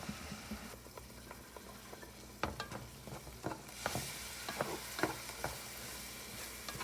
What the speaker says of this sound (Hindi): 4 से 5 मिनट इसको फ्राई करेंगे मसाले को, ताकि इसका तेल निकल आए